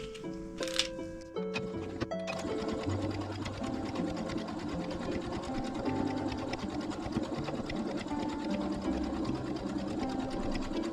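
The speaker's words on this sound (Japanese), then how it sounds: "ずっとここを縫っていきます。" A sewing machine stitches a seam on a fabric smartphone pouch that has no zipper. After a few opening clicks and handling sounds, it settles into a steady, close, continuous mechanical whir with rapid needle ticking, and no voices.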